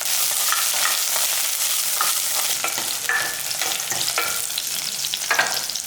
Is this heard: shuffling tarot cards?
no